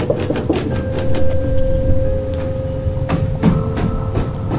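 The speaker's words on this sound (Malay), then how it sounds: "terdengar seperti bunyi ketukan" Several sharp knocks land irregularly over a steady low hum, some in quick pairs, fairly loud and close.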